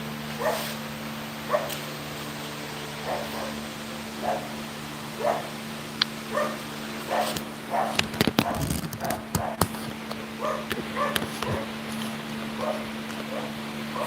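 A dog gives a series of short yips and whimpers outdoors, spaced irregularly over a steady low engine hum, with a burst of louder clattering noise midway through.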